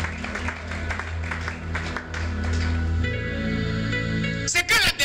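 A church congregation claps in a steady, slightly uneven rhythm while acclaiming Jesus at a worship service, with music and crowd noise underneath and a brief louder burst at the end.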